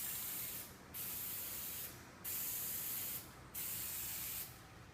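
Aerosol clear coat sprayed from a can held well back from the part, coming as four separate hissing bursts of about a second each, with short gaps between them and no voices.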